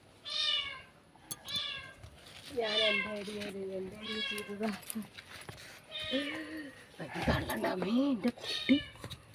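Several cat meows, some drawn out and plaintive, come and go close by over a noisy background as the cat climbs into a basket, with rustling and shuffling between calls.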